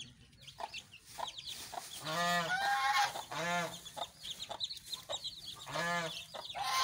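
Three-week-old desi chicks stay close to their mother hen, peeping constantly, while the hen gives several loud, drawn-out clucking calls at a steady pace. The sound is close and busy, and no one speaks.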